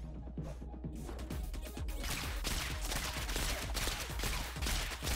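Constant gunfire in the modded game Rounds, a dense, rapid stream of shots hammering without pause, loud and close, with no talking.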